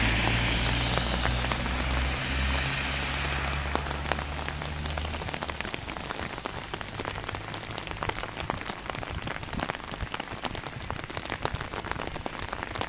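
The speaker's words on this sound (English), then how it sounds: "experience the rain of Medjugorje. We had it all night long already." Steady rain pattering on surfaces outdoors in Medjugorje, a dense continuous patter with scattered louder drops, and a low hum fading out in the first seconds.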